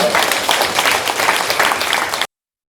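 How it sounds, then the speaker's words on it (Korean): Audience at a community palm-garden volunteer gathering in Yeongtong-gu, Suwon, bursts into dense, continuous applause that stays loud for about two seconds before cutting off abruptly. "이 대목에서 여러분 자부심과 박수 한번 쳐주세요"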